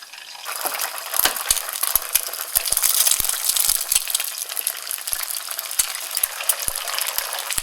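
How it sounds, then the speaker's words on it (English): Eggs cracked straight into hot oil fry with a loud, close, crackling sizzle, scattered sharp spits and pops running throughout, with no talk. "Make sure your oil is nice and hot, and crack your eggs straight in."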